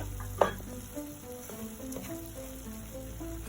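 Yellow pepper, diced onion, garlic and peas sizzle steadily in a pan over already-cooked food, a close crackling fry with a sharp clatter near the start and soft stirring knocks after it.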